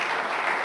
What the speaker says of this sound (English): Round of applause for all the gentlemen.